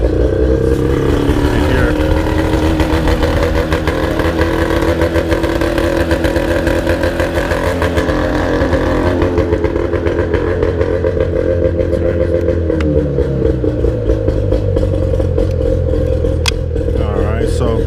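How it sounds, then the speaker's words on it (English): A Mercury outboard motor runs in forward gear on an Alumacraft 1542 boat, a loud, steady engine drone that lowers in pitch partway through, with brief speech over it. "Let me put her in forward gear."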